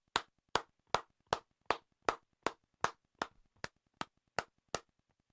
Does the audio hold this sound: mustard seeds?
no